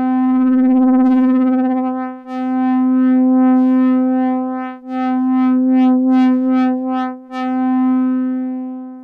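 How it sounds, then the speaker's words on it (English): An ARP Odyssey synthesizer holds a sustained tone while a sine-wave LFO sweeps its filter cutoff, so the brightness swells and fades in slow, even pulses, loud and clean with no other sounds. "So that's just the standard sine wave dedicated LFO"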